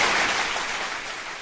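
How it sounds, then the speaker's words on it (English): A comedy show audience gives a round of applause, a soft, even patter of many hands that fades slightly as it goes on. "Big round of applause."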